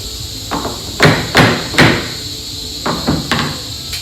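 Hammer tapping a cabinet face frame over, with about seven sharp, close wooden knocks in two short clusters.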